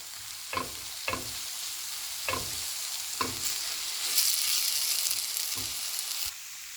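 A spoon scrapes and knocks rhythmically against a pan while samosa chaat sizzles steadily underneath, close up, with the frying hiss swelling toward the end.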